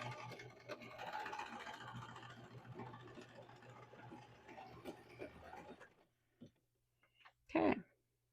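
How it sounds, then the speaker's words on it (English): A sewing machine stitches across the top of a fabric zipper pouch with a steady mechanical whir for about six seconds, then stops, followed by a few brief clicks and a louder handling sound near the end. "then we're going to sew across the top"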